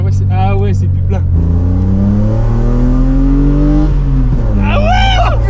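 A BMW 335i E30 pulls in fourth gear from inside the cabin, its engine a loud, smooth drone climbing steadily in pitch, while people talk and exclaim over it.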